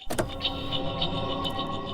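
A car, with the whir of an electric power window running steadily after a short thump, close and alone with no talk.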